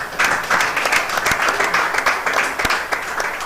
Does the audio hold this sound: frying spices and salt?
no